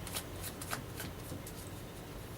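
Spanish playing cards handled and shuffled during a tarot-style reading, a close run of soft riffling flicks and slides with no talk.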